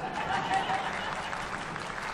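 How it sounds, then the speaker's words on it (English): An audience at a talk on Israel's security challenges breaks into applause, a soft, steady wash of clapping that stays even and fairly distant throughout. "Now you can applaud."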